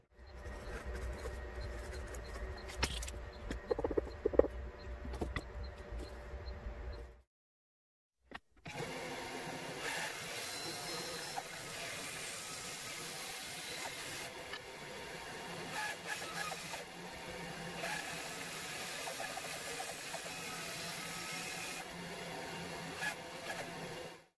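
A saw cuts out a wooden crankbait blank in a workshop, buzzing steadily and fairly quietly, with a brief stop partway through before cutting resumes and runs continuously to the end.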